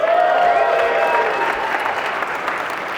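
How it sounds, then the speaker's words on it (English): Dense audience applause fills the space, loud at first and tapering slightly, with a few voices calling out over the clapping. "Give her a round of applause."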